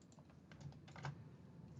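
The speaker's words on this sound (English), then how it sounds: "by pressing those keyboard combinations, I can get a ticket to pop up straight away" Keyboard shortcuts are tapped out on a computer keyboard in a quiet room. The key presses come as a faint, rapid cluster of soft clicks over a low background hiss.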